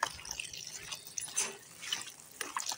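Taro being washed in water with a ladle in a kitchen, soft sloshing and dripping splashes in irregular bursts, close by and fairly quiet.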